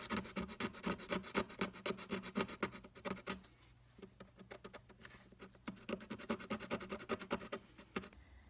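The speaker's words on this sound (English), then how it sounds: "Now I'm going through with my hobby sander to just take out some of the rough edges from my Dremel." Hobby sander smoothing the rough Dremel-carved edges of a decorative wooden sign, close scratchy rubbing in rapid repeated strokes, easing off for a moment midway before picking back up.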